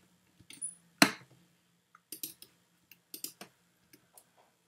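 Sparse keystrokes on a computer keyboard while typing code: one sharp louder click, then a few quick irregular taps and scattered single clicks, close and quiet with silence between.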